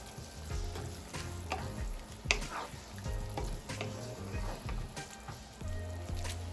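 Seasoned ground beef sizzles and fries in a pan for tacos while a spoon stirs it, with scraping clicks and bursts of crackle over a steady hiss.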